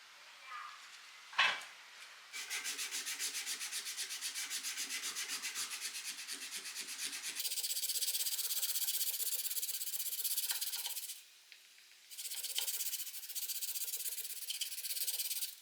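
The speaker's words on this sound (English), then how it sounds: "so just going to be hand sanding." Rhythmic scratchy rubbing of hand sanding a knife handle, steady back-and-forth strokes close up, with brief pauses between passes.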